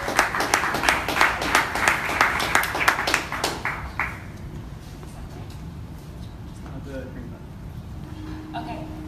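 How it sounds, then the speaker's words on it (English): Audience at a travel industry summit in New York claps as a speaker is called up, a burst of clapping for about four seconds that stops and gives way to quiet room noise and a voice beginning to talk. "Give her a round of applause"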